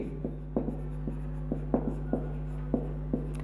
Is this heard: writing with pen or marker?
yes